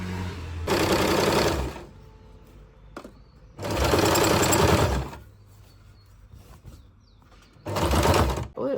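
A sewing machine stitching a churidar top, running in three separate bursts of rapid, close mechanical whirring with quiet pauses between them.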